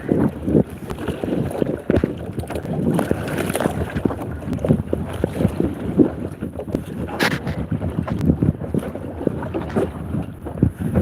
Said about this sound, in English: it's like paddling against the wind